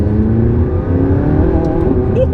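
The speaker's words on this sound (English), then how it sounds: "a slight whip crack on the upshifts" McLaren 675LT engine revving hard under acceleration, a loud, close, rising mechanical drone with layered harmonics from inside the car and a faint sharp blip near the end.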